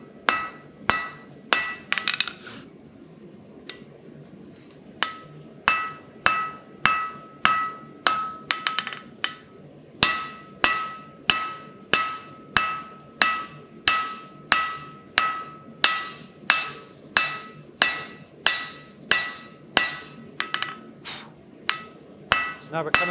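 A blacksmith's hammer forges hot steel at welding heat, ringing out in a long, steady series of loud, sharp metallic blows at an even rhythm, close by and with no talk over them.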